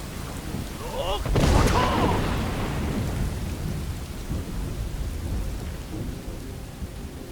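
A loud thunderclap cracks and rolls into a long rumble over steady rain in the Skyrim game world, the downpour hissing on as the thunder fades.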